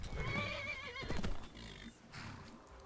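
The black horse Shadowmere in the video game Skyrim Special Edition gives a loud, close whinny: a long wavering neigh, then a sharp snort-like burst, and a softer trailing breath.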